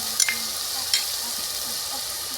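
Ground onion paste fries in a pan with a steady, close hiss of sizzling oil, broken by a couple of faint clicks of stirring.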